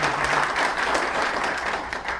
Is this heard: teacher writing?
no